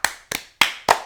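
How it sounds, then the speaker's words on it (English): Four sharp hand claps in a steady, evenly spaced rhythm, close and crisp with brief silences between them, and no voices. "Clap, clap. They can hear it."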